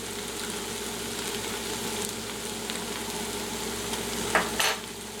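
A Bird's Eye frozen pasta dinner stirred in a pan after the liquid has cooked off, with a steady close sizzle throughout and a couple of sharper scrapes of the utensil near the end.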